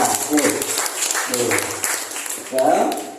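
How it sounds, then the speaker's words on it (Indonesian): An audience claps for two speakers at a Hindu temple gathering in Tangerang, a steady patter of applause running under a moderator's voice. "beri aplaus untuk kedua narasumber kita"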